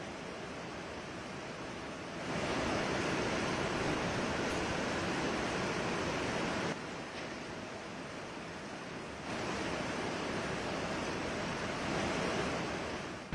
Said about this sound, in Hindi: ऊपर से जो नाले का पानी है वो झरने की तरह यहां पर बह रहा